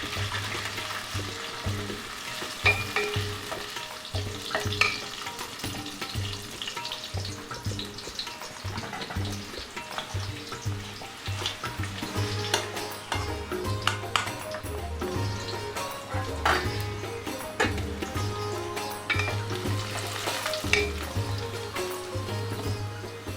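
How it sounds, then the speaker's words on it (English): Curry leaves and shallots fry in hot coconut oil for a bitter gourd dish, giving a steady crackling sizzle throughout with light stirring, while soft music plays underneath. "heat coconut oil and fry some curry leaves first along with some shallots"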